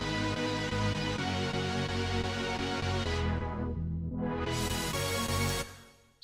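A Sylenth synth pad from a Future Pop sample pack holds a sustained, rich chord. A filter sweep dips the sound and opens it again before it fades out, with no voice.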